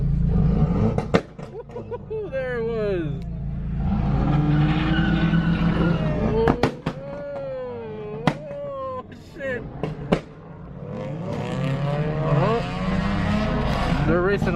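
Cars race and skid at a street car meet, with loud tire squeals and swooping engine revs close by, rising and falling over a steady crowd rumble while voices talk and shout.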